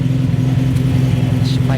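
A Datsun 240Z (Fairlady Z S30) engine idling close by with the choke pushed back in, a loud steady low rumble with an even pulsing beat and faint noises over it.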